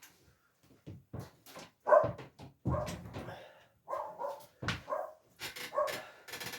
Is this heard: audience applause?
no